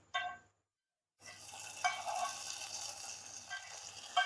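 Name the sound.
cashews frying lightly in a pan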